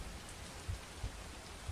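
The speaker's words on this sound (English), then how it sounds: "Sounds like rain." Steady rain falling in American Truck Simulator with realistic mods, a soft continuous patter with a few low thumps, fairly quiet and heard alone.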